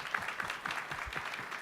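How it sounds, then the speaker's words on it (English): An audience claps together in a sustained round of applause at a higher education summit, steady and even throughout the short burst with no one speaking. "can we all give the Secretary a round of applause for that?"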